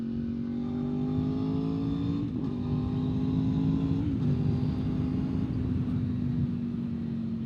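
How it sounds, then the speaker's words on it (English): A V4 motorcycle engine drones steadily up close, its pitch dipping and rising slightly as the throttle is rolled on and off, with no voices. "like doing throttle on, throttle off, things like that."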